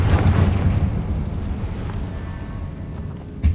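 A Bombarda blasting spell explodes in a spider-filled tomb in Hogwarts Legacy, a loud, deep rumbling blast that rolls and slowly decays, ending with a sharp pop.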